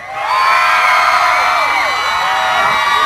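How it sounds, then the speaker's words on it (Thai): A concert audience at a live show screams and cheers loudly and continuously, a dense high-pitched wall of shrieks and whoops from the crowd that holds steady for several seconds. "ถ้ามีความสุขขอเสียงกรี๊ดดังอีกทีได้ไหมครับ"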